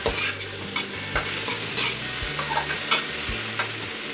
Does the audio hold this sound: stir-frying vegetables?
yes